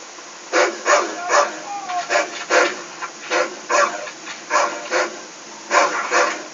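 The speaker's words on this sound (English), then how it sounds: "You're gonna have 2 dogs down there" Two dogs barking in the PlayStation game Medal of Honor, a steady series of about a dozen sharp, evenly spaced barks, moderately close and clear with no talk over them.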